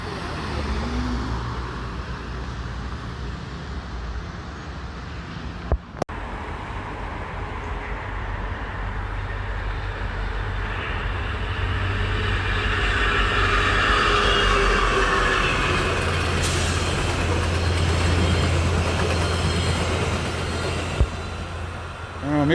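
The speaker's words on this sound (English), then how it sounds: "am I wrong or there's something about that locomotive didn't sound right?" A locomotive passes in Montreal with a loud, steady rail rumble that swells toward the middle and holds close for over twenty seconds, with faint voices now and then.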